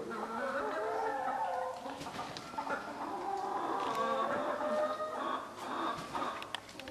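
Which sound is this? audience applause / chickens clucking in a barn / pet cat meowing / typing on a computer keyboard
chickens clucking in a barn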